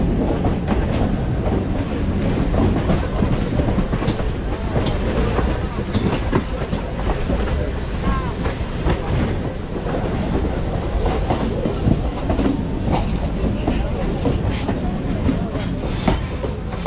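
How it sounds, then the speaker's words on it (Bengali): A Dum Dum Cantonment local train runs alongside a crowded Bangaon local near Dum Dum Junction, giving a sustained, loud rumble with steady clickety-clack of wheels throughout, and some faint talk mixed in. "আর এই ডান দিকে যে ট্রেনটা যাচ্ছে এটা হচ্ছে দমদম ক্যান্টনমেন্ট লোকাল।"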